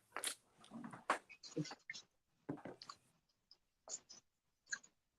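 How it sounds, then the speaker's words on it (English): Someone chews bacon close up, with irregular soft crunching bites and mouth sounds that come in short bursts separated by brief pauses. "I was chewing that bacon."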